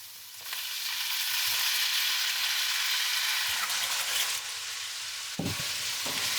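Chardonnay reduces in a hot pan with a loud, continuous hiss and sizzle, close by, broken near the end by a couple of low knocks and a brief dip in intensity; no voices.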